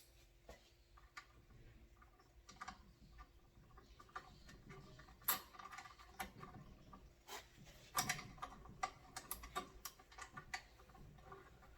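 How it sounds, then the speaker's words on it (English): A ratcheting wrench threading a hydraulic steering hose fitting, quiet irregular clicks and ticks in short bursts over a faint background, close up. "I personally prefer a ratcheting wrench for this part."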